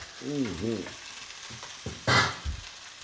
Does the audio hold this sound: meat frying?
yes